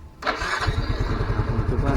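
A Yamaha Fino 125 FI scooter is started: the starter engages, then the engine catches and settles into a fast, steady putter, close and fairly loud.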